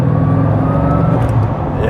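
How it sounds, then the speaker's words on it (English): A Bugatti Chiron Pur Sport engine pulls under gentle throttle as the car gathers speed: a steady, dense rumble with a tone that rises gradually, heard close and continuously for a couple of seconds. "Now, I'm accelerating, very mild bit of throttle"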